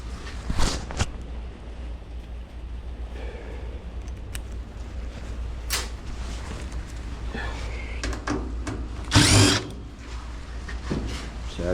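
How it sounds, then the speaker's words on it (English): Intermittent bursts of a power drill whirring in short runs, drilling out Phillips screws on a scrap washer unit, amid clanks and handling noises, with a steady low hum underneath. "drill out these Phillips screws here."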